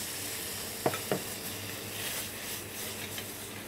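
Celery, potatoes and carrots sautéing in a pot, a steady close sizzle with two quick knocks near the start, no voices.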